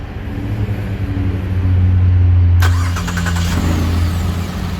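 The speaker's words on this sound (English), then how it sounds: "The vehicle's gonna start and run, and it'll run until it loses that connection." A 2010 Chevy Traverse with a replacement engine and faulty wiring fires up: a loud low idle rumble swells, then a sharp clatter of starting as the engine catches and settles into a steady idle.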